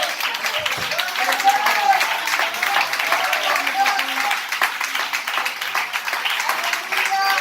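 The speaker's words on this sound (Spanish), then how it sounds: "un aplauso en esta mañana para Jesús" Congregation at a Sunday school church service applauds in a steady, dense wash of clapping, mixed with voices and cheering throughout.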